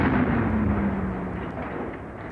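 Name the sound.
World War 1 artillery barrage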